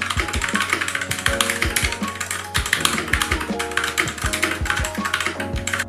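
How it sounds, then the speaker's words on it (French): Fast, continuous typing on a Sharkoon SGK50 S4 compact mechanical keyboard with red switches, a dense run of close, crisp key taps and clacks with no speech. "Je vous laisse maintenant écouter le bruit du clavier."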